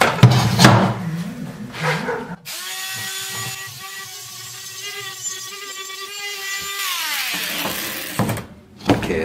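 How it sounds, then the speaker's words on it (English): A power sanding wheel whines steadily against metal for several seconds, loud and close, framed by brief clunks and handling noise at the start and end. "I put a sanding wheel on there"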